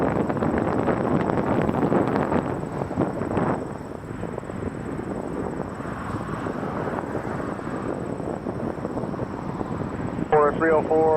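A jet airliner on approach to land at Toronto Pearson Airport, with a steady broad engine roar and wind noise throughout, and a burst of speech near the end.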